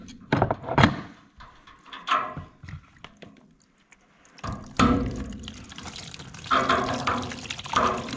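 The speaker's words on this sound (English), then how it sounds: "See if I can get my hose on." A garden hose runs water in uneven bursts of splashing and gushing, close by and fairly loud, with quieter gaps and clattering in between and no speech.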